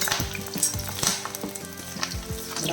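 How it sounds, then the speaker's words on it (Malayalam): Curry leaves crackle and sizzle in hot oil with garlic and green chilies, a close, continuous frying hiss broken by sharp pops and spatters. "നമ്മുടെ കറിവേപ്പില പൊട്ടുന്ന സൗണ്ടാണ്"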